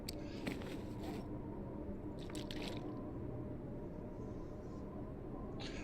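Small wet sipping and swallowing sounds of drinking water in the survival game The Long Dark, brief and close, heard over a steady rush of wind.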